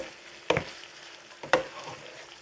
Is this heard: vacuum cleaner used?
no